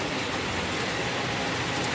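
Heavy rain pouring down in Chennai, a dense, continuous roar of drops hitting surfaces nearby, steady and loud without any voices.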